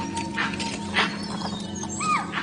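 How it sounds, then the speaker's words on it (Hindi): Wild animals in the misty Kabini forest give alarm calls, several short sharp cries and yelps scattered over a steady low hum, fairly faint and distant, with no talk. "ये अलार्म कॉल्स मुझे लेकर नहीं दी जा रही।"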